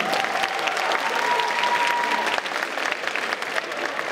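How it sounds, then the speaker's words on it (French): An audience at a cosplay contest during the Gamefest in Charleville gives a steady round of applause, dense clapping lasting several seconds with faint crowd murmur beneath. "Oui, un petit peu d'applaudissements quand même, s'il vous plaît."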